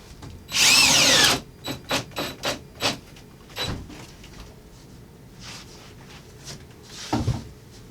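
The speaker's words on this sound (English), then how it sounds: "Just keep driving them screws." A power drill drives screws into a model railroad bench top, with one loud sustained whir followed by several short bursts and quieter bumps and knocks, close by.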